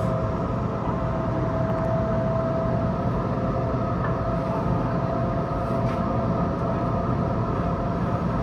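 Passenger train on the North Shore Line heading back toward Hornsby, a steady interior rumble with a faint tonal whine sustained throughout, moderately quiet and continuous, no talk.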